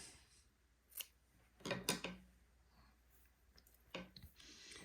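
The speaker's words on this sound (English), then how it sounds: "If I fold it back on itself 1 more time, that gives me 3/2, and I can clip it right there." Lace being cut with scissors, a few close, crisp snips in quick clusters with short pauses between, quiet overall with no talk.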